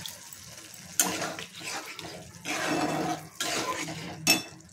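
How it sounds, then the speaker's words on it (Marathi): Water poured into a pan of jackfruit seed curry, with splashing pours in short bursts and a metallic clink of a utensil, faint and close, no talking. "थोडं पाणी टाकायचं आहे."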